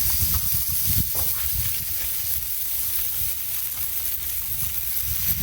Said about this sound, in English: You can hear the nice sizzle going.